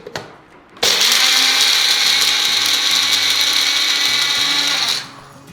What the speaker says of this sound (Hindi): ये हमारा मिक्सर,